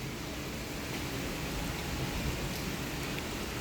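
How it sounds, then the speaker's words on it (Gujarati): Steady rain falls outdoors on a dark, overcast day, a dense even hiss with no breaks and no nearby voices, moderately quiet and continuous throughout. "વરસાદ આવે છે તો રનિંગમાં ગયા નથી,"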